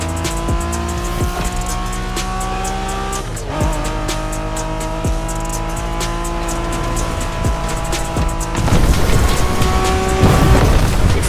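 A car races in the video game The Crew Motorfest, its engine revving loud and close through gear shifts with bursts of tire squeal before a louder, rougher roar at the end.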